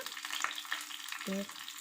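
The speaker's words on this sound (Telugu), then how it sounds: "ఎండుమిర్చి నెక్స్ట్ కరివేపాకు వేసి చక్కగా మగ్గనివ్వాలి" Dried red chillies and curry leaves sizzle in oil for a groundnut and coriander chutney, a short burst of steady crackling frying with faint stirring, close up and without talk.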